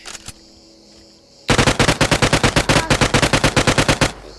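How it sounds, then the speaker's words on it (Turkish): A fast burst of machine-gun fire from a Minecraft gun mod, about twenty sharp, loud, evenly spaced shots in a steady rapid rhythm after a short quiet lead-in. "50 mermi Çok iyi tarıyormuş bu."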